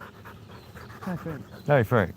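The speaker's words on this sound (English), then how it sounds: "There's a dog. Hey, look, a dog." An old dog pants quickly and close by after running, the rapid breaths running softly under people greeting it.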